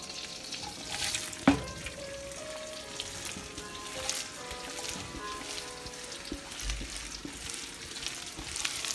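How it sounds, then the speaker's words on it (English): Onion dropped into hot butter with spices for chicken rice, a sharp burst followed by a soft, steady sizzle that carries on quietly, with light stirring clatter. "So now that it's going good, I'm going to add this onion."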